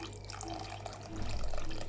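Water pours steadily into a cooking pot for basmati rice, a continuous close splashing stream that grows slightly louder toward the end, with no talking.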